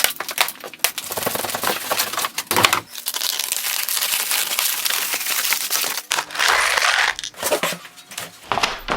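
Heavy packaging around a Quadratec aluminum Brute Strength bumper is pulled open, giving loud, close crinkling, crumpling and tearing of plastic and paper in bursts with short pauses between them.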